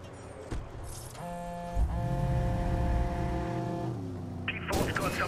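Car driving in Watch Dogs during a chase: a steady, humming engine tone rises and shifts, with a thump and sharp noises near the start and end, under a talking voice.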